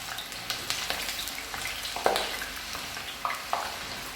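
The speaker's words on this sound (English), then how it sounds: "We are going to add in the potatoes for the second roast." Potatoes frying in very hot oil for a second roast, a steady broadband sizzle with scattered crackles and a few sharper pops, close and moderately loud with no talking.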